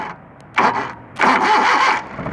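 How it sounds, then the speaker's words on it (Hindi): A Suzuki Bolan car engine cranks in two bursts, a short one and then a longer one, before catching. The sound is close and loud, and nobody speaks. "गाड़ी स्टार्ट हो गई"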